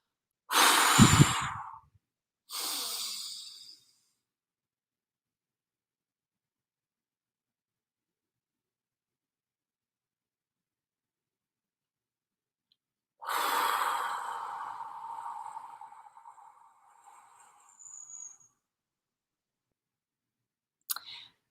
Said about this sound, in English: Exhale, and then 4 beats, inhale, 7 beats, hold, 8 beats, exhale.